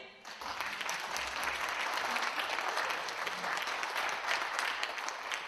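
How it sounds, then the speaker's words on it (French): An audience claps steadily for a team captain called up on stage during a quiz event, the applause dense and sustained throughout. "On peut l'applaudir."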